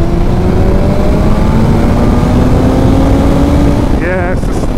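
A KTM 1390 Super Duke and a BMW M1000R accelerating hard side by side in fourth gear, their engines roaring loud and close in a steady rising drone, with wind rush over the top and a voice breaking in near the end.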